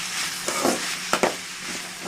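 Ivy gourd slices sautéed with salt in a pan give a close, steady sizzle, with a few quick scraping stirs breaking through the hiss.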